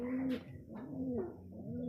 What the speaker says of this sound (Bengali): অনেক ধরনের কবুতর আছে।